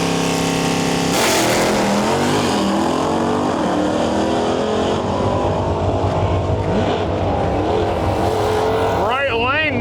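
A 1985 Ford Capri drag car with a nitrous-fed 6-liter LS V8 and Turbo 400 transmission roars loudly down the strip in a heads-up index class race. Engine noise is sustained and close, with a voice heard underneath.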